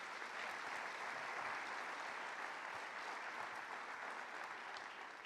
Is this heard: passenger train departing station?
no